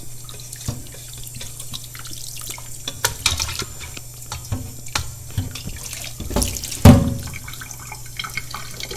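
Tap water runs into a sink to rinse a soil sample during sieve analysis, a steady splashing stream with a few louder clatters and drips, no talking.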